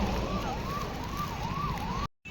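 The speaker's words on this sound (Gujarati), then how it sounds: "મિત્રો એમ્બ્યુલન્સ આવે ક્યાંકથી છૂટ" An ambulance siren wails in a steady rising-and-falling cycle, fairly loud and continuous, before cutting off abruptly near the end.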